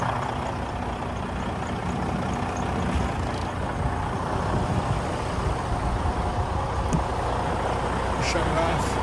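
A 2010 Freightliner Cascadia semi truck with a 505 hp DD15 diesel engine idles steadily and loudly up close, a constant low rumble with brief hissing and clicks, and a voice speaking faintly in the background.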